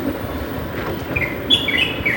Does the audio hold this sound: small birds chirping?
yes